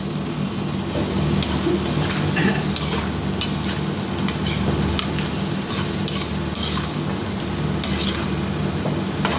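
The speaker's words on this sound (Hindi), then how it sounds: "इस मसाले के साथ इसको क्या करेंगे मिक्स कर देंगे और हल्का इस मसाले के साथ कुक होने देंगे" Okra stirred with masala in a pan, a spoon scraping and clinking against the metal in repeated strokes over a steady close sizzle of frying.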